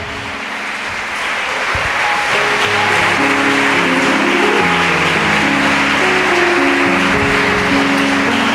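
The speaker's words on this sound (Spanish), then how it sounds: "Denle un aplauso al Señor." A congregation in a church breaks into sustained applause, the clapping swelling into a dense, steady wash with sustained musical tones ringing underneath.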